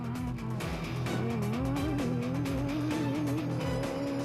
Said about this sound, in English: leaders Colin Matthews and Alan Smith, who were still on a spectacular charge in the Century Racing CR3.